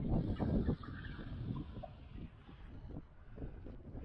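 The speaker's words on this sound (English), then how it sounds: "It is quite windy" Strong wind buffets the microphone outdoors on a hike near an old lava flow, a loud, rough, continuous rumble that gusts and eases, with no talk.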